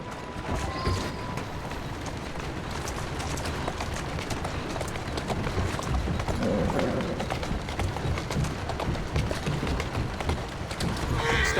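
Horse hooves clip-clop at a steady run in Assassin's Creed Syndicate, a dense continuous patter of close hoofbeats with faint street ambience and occasional birds in the background.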